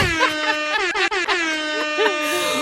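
An air horn sound effect blares in loud, wavering tonal blasts with pitch bends, repeated across the clip at close range.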